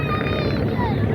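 Heavy diesel engine of a passenger launch racing other launches on a river in Bangladesh: a loud, continuous, dense rumbling drone with whining tones above it, steady throughout.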